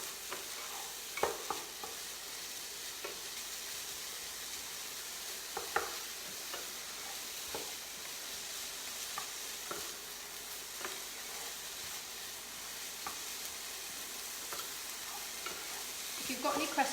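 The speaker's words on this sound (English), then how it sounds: "I'm not going to fry this too much. I don't want the bacon going hard or crispy or anything." Bacon and onions fry gently in a pan, a soft steady sizzle under occasional stirring scrapes and clicks, quiet and close with no voices.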